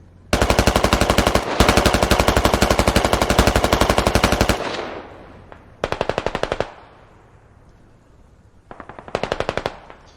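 Automatic gunfire in a video game replay on the map Kokan AASv1, loud and close: a long sustained burst, then two shorter bursts separated by fading echoing tails.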